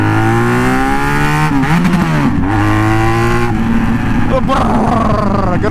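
Motorcycle engine idling and revving in a workshop, fuel-spitting and rough, with the pitch rising and falling through several throttle blips; loud and close, steady throughout.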